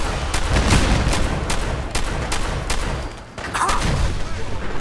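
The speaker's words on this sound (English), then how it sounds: "Did you hear that? It was a nuclear explosion." A nuclear explosion in the video game Fallout 4 booms and rumbles loudly and continuously, a heavy, rolling blast that dips briefly before surging again.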